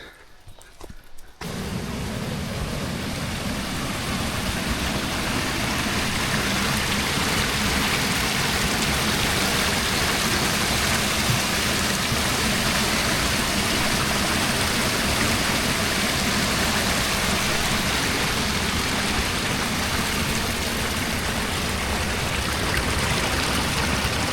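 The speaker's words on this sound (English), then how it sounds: "this track also follows this wee water race, and it supplies water down there" Water running steadily along a small water race channel beside a track at Piano Flat, a constant close rushing wash that starts after a brief quiet moment and continues unbroken.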